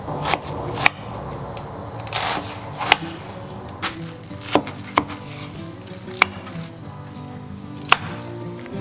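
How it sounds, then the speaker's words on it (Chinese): Knife chopping through cabbage on a cutting board into large chunks, a steady series of sharp, close thwacks spaced about half a second to a second apart, with no talking. "把它切成大块。"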